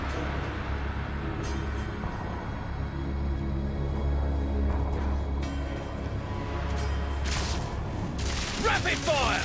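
Rapid gunfire from a Sten-style gun in the video game Path of Exile 2 crackles in dense bursts over a low rumble, with a heavy boom near the end and a voice talking over the action.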